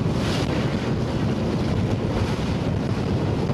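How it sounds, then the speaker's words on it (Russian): A Rosprirodnadzor sanitary patrol boat gathers speed on the Gulf of Finland near Lomonosov, its engine drone blending with loud, steady wind buffeting and rushing water, continuous with no talking. "Санитарный катер Росприроднадзора уже далеко от пристани и постепенно набирает ход."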